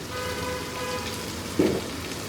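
Lemon garlic Maggi noodle spice mix frying in a pan, a steady soft sizzle with a brief louder stir or scrape near the end.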